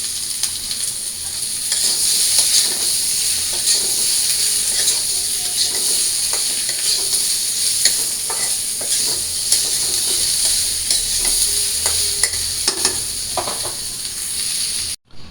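Curry ingredients frying in a pan with salt and turmeric, a loud continuous sizzling hiss with occasional stirring scrapes, close and steady without talk, cutting off abruptly at the end.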